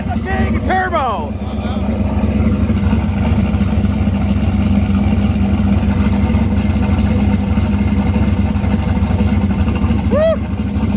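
Turbocharged racecar engine fitted with a very expensive exhaust, idling loud and close with a deep, steady rumble throughout, while a voice briefly whoops or shouts near the start and again near the end.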